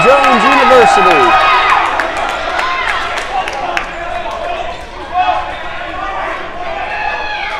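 A loud basketball crowd roars and cheers in a school gym during a Bob Jones University game, the noise swelling then settling, with a whistle, squeaks and a commentator talking over it.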